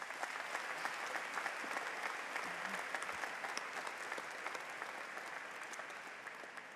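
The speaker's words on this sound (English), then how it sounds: "Please join me in applauding these special guests." A commencement audience at a Harpur College ceremony applauds honoured guests, dense even clapping that holds steady throughout, heard somewhat distantly.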